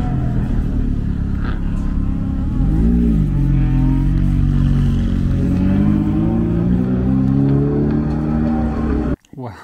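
Ferrari F430 running on a race track, its engine droning loud and close with rising and falling harmonics as it accelerates and shifts, the sound cutting off abruptly at the end.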